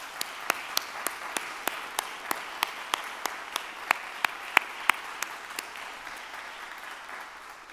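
A university audience gives a sustained round of applause to welcome new employees standing at a fall address; steady, moderately distant clapping with sharp regular spikes rides over a hall ambience and fades slightly toward the end.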